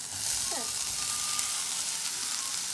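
Soya chunks and onions sautéing in a pan for soya chukka, a loud, continuous close sizzle with a faint stir near the start.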